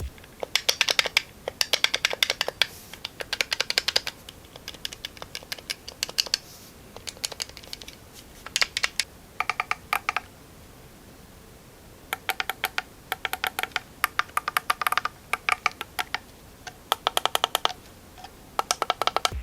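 Button and paddle shifter clicks on Moza R5 and Cammus C5 direct-drive sim racing wheels: rapid bursts of crisp, close clicking in quick clusters, with short pauses between groups and no talking.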